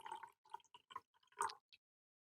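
Water is poured from one cup into another with quiet, irregular splashing and trickling in short bursts that end in a few final drips, faint and close, with no talking.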